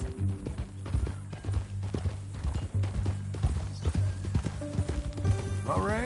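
Horse hooves clip-clop steadily in Red Dead Redemption 2 as a mean-looking new horse walks along, a low engine-like drone and short voiced bursts running underneath, with a rising tone near the end.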